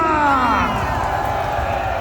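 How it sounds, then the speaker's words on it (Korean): Crowd at a political rally roars with cheering and applause, a dense, sustained wash of voices and claps at close range, with rising shouts at the start. "박수하겠습니다."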